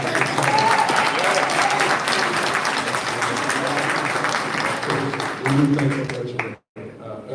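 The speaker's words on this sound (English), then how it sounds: "going to ask everybody to give Keith Freeman a round of applause." An audience at a Dolton council meeting claps in a steady round of applause, loud and continuous for about six seconds before it cuts off abruptly, with faint voices underneath.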